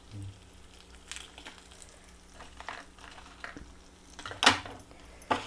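Dried red chillies and green chillies frying with urad and chana dal in a pan for coriander dal chutney: a quiet, soft sizzle with a couple of sharp metal clinks near the end.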